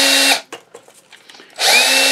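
A high-pitched electric drill whines while cleaning metal, cuts out for about a second of quiet scraping and clicking, then spins up again.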